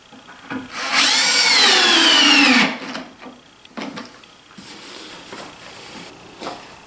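A power drill drives a screw into a wooden joint in one loud, continuous burst of motor whine that rises in pitch for under two seconds, followed by quieter bumps and handling noises in a workshop.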